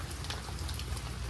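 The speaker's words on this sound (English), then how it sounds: "as y'all can see, it's raining a lot" Heavy rain falling outside, a dense steady hiss of drops with a low rumble underneath, continuous and close throughout with no voices.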